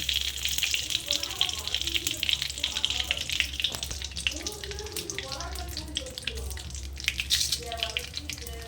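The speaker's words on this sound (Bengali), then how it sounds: "এবার মাছের এই তেলেই আমি জিরে ফোড়ন দেব আর তেজপাতা দেব" Cumin seeds and bay leaves crackle in the oil left from frying snakehead fish, a continuous close sizzle with faint, indistinct voices murmuring underneath.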